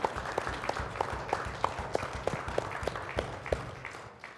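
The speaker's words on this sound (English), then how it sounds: "Let's give the Lord another clap of praise." A church congregation claps in praise, a steady, rhythmic beat of many hands in unison, evenly spaced and moderately distant, with a faint wash of crowd noise beneath.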